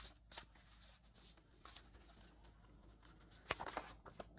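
Oracle cards are shuffled quietly, a faint run of soft riffling and papery flicks with a few sharper card snaps in a hushed room.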